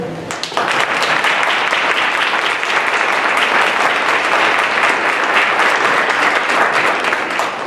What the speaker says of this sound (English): would you stand up and we'll give you a round of applause for your good work?